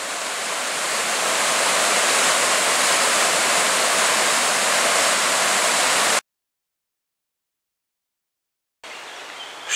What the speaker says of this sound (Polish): Jest duży spadek terenu i wody z ogromną siłą pędzą.